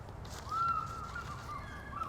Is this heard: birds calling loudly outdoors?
yes